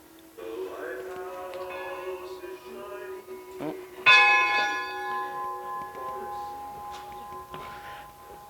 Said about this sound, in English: And we can ring the bell.